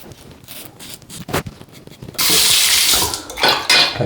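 A tap runs at a sink as a King C Gillette safety razor is rinsed, first with a few clinks and splashes, then a loud, steady gush of water with brief bursts near the end.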